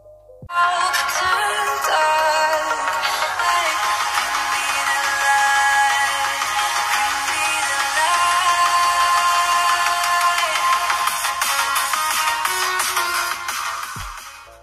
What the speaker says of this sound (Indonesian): sampel suara atau audio dari speakernya ini, berikut saya tampilkan pada tayangan berikut ini